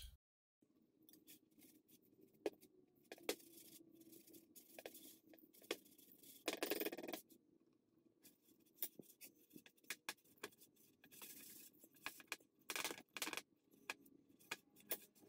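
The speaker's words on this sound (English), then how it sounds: "as I'm trying to whisk and stir this together" Cornmeal is whisked in a bowl, a quiet run of light ticking, scraping and rattling strokes that come in uneven bursts with brief pauses, close but faint, with no talking.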